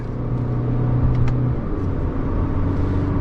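Steady, loud engine rumble from the 2.0-liter-era successor, a 2021 Subaru Crosstrek Limited, heard from inside the cabin as it pulls away from a stop with a smooth, continuous drone and slight rising tone.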